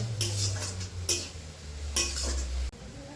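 A spoon scrapes through boiled kalmi greens seasoned with salt and turmeric in a metal kadai, giving three distinct, close clinking strokes about a second apart over a low steady hum.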